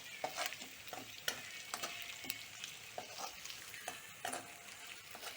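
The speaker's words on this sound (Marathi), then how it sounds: "आपला लसूण करपू नये म्हणून असं सतत हलवत राहायचं" Garlic frying in a pan while being stirred constantly, with an ongoing soft sizzle broken by repeated scraping strokes of the spoon, close up and fairly quiet.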